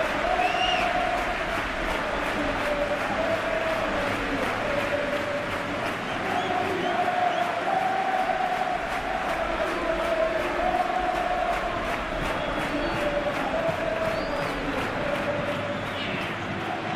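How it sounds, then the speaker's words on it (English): A packed stadium crowd roars steadily throughout a Real Madrid versus Manchester United Champions League match in a football video game, a dense continuous cheer with swelling chants. "The crowd waits with huge excitement."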